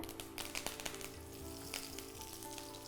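Cardamom, cloves and curry leaves crackle and sizzle steadily in hot oil, close up and alone, with scattered sharp pops over a continuous frying hiss.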